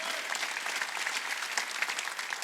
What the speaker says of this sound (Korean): 박수 치라 이거, 박수 치라